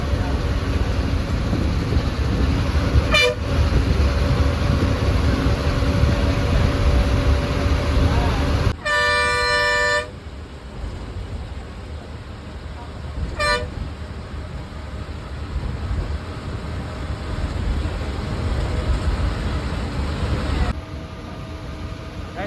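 Old government bus running at speed on the Chennai bypass, with a steady engine and road rumble and a horn sounding several times over it.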